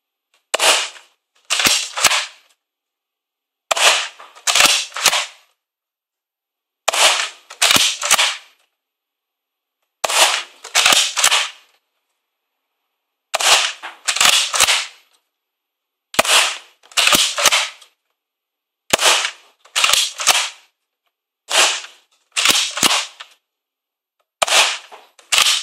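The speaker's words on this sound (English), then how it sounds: "I'll put 12 shots from my old one across the chronograph" A Nerf Retaliator blaster fires a dozen shots across a chronograph, each a sharp double pop of the pump and dart release, spaced evenly about two seconds apart in a quiet room.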